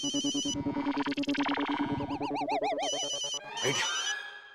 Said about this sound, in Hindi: मेरे बॉस का फोन आ रहा है